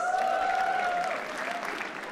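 Audience clapping at a comedy roast show, steady dense applause throughout with a held sung or hummed tone riding over it early on, fading slightly toward the end.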